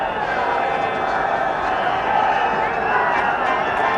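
Cricket crowd at a 1983 World Cup semi-final between India and England, a steady loud murmur of many voices reacting to an umpire's decision, with commentary running over it throughout.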